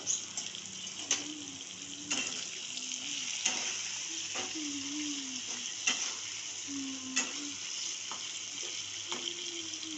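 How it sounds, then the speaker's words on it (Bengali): Kalonji seeds and two dried red chillies sizzle steadily in hot oil for a potato dal dish, with a utensil scraping and stirring the pan at regular intervals. "ফোড়নটাকে ভালো করে ভাজতে দেবেন সিদ্ধর জন্য।"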